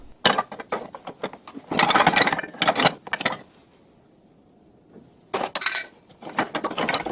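Woodturning tools, some homemade, clink and rattle in a box beneath a wood lathe, in clustered metallic bursts with a quiet stretch in the middle.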